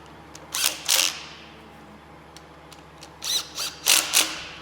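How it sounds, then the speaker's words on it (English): Ratchet tightening intake manifold bolts on a small block Chevy engine, with two sets of rapid clicking bursts separated by a short pause, close and clear with no talk. "you can go ahead and start tightening them down like I am doing here"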